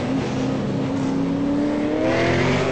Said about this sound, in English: Take a chance to have a listen to these cars